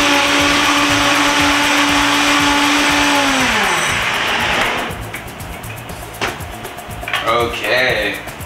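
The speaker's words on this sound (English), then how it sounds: "now we've got everything in the blender and we're ready to blend it up." A blender whirs loudly at high speed blending a piña colada drink with pineapple and coconut, its motor pitch dropping as it winds down to a stop, followed by people talking.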